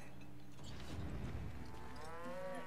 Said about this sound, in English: Hey, cows.